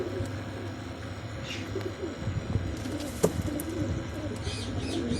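Kala Nag breed Imamdeen pigeons cooing softly, faint low coos under a noisy background with occasional chirps and a brief thump.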